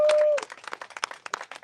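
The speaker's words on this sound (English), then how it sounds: "we need to give her a big round of applause" A live audience claps loudly for a woman at a Starvin' For Justice event on the death penalty, with a brief tone at the start before a dense, steady burst of applause takes over.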